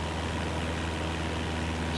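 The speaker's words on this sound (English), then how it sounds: "I'm going to start cutting the engine back now." Steady, droning engine of a Beechcraft aircraft in Microsoft Flight Simulator 2024 as the throttle is eased back, a continuous low hum with no break, heard alone.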